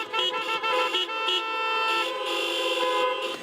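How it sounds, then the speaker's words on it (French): Several car horns honk in celebration after a church mass, overlapping toots of different pitches sounding in quick bursts, fairly close, with faint voices in the background. "c'est un concert de klaxons qui plébiscite l'initiative"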